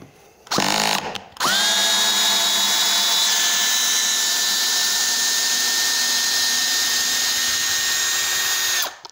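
Cordless 18V drill driver with its clutch set to 21 drives a screw all the way in: a brief whir, then a long, steady high motor whine close by that stops abruptly.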